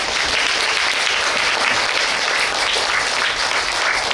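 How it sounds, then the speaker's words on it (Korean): A large audience at a special space lecture gives steady, loud applause to welcome a speaker, dense and continuous throughout with no talking. "큰 박수로 맞이해 주시기 바랍니다"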